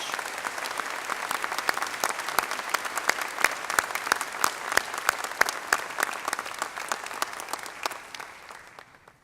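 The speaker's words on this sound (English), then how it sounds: "Again, a warm round of applause for Bearcat Rodney Edge." Audience applause at a university spring commencement ceremony, with many hands clapping in a brisk, even patter that carries on steadily and then fades away toward the end.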